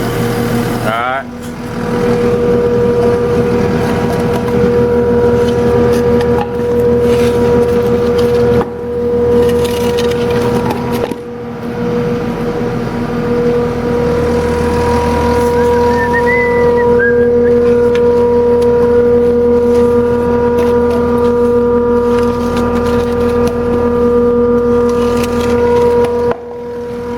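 A skid steer engine runs loud and steady throughout as the machine is driven off its blocks during track replacement, with a droning hum and occasional knocks and clanks nearby.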